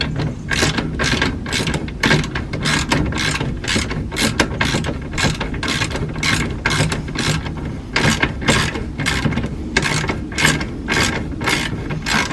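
A ratchet clicks rapidly and continuously as it loosens bolts on Subaru control arms, a close, loud metallic rattle of quick strokes with brief hitches between pulls.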